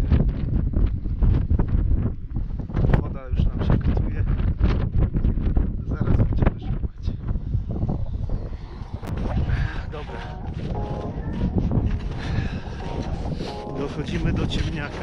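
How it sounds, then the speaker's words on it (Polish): Strong mountain wind buffets the microphone on a high ridge in the Tatras, a loud continuous rumbling roar with gusty surges throughout. "Tylko strasznie wieje i nawet nie wiem, czy mnie będzie słychać."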